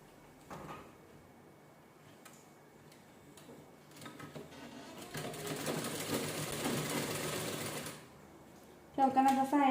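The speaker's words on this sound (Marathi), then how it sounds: "ह्याच्याने शिलाई करून घेऊया आपण." A sewing machine stitches a canvas strip for a blouse neckline, running steadily for a few seconds after faint clicks and handling noises, then a louder burst of clattering at the end; a voice speaks softly nearby.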